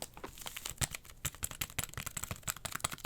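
A zipper on a Blu-ray boxset case being pulled in quick, close rasping bursts, with crisp clicks and ticks from the case.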